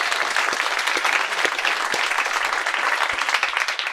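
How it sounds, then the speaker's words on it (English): Live audience at a New York City roundtable breaks into applause, a dense, steady wash of many hands clapping, loud and close, holding for several seconds with no speech over it. "Please clap."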